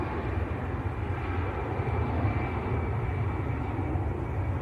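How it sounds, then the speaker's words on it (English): An EasyJet Airbus A320 airliner at Manchester Airport, a steady broad jet roar with deep rumble, constant and fairly loud throughout, no talk. "That was EasyJet to Belfast, Airbus A320"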